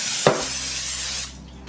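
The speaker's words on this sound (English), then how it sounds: "now I'm gonna just spray this with my cooking spray" A steady hiss from a cooking spray can spraying onto a baking pan for about a second, with a faint tap at the start, close by.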